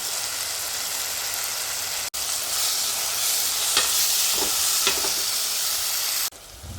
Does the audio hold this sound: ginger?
yes